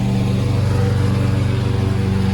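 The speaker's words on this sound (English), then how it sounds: "Sorry about the lawnmower noise." Lawn mower running steadily nearby, a constant loud droning engine with a buzzing rhythmic pulse that holds level throughout, no voices.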